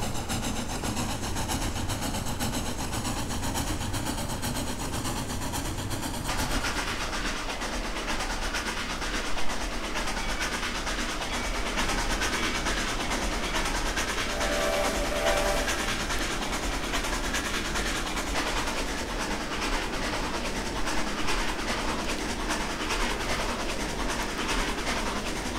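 A streamlined CP 2-10-4 Selkirk steam locomotive runs steadily in the Trainz 2019 train simulator, with a continuous rumbling rail roll and clattering wheels that keep going for the whole stretch.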